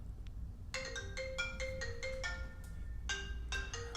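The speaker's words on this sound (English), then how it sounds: "Look at how my phone interrupts the" A mobile phone ringtone plays a repeated electronic melody in short bursts, moderately loud and clear over a quiet background with no talking.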